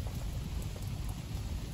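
Heavy rain pours in a steady, unbroken hiss of close, dense drops with no voices.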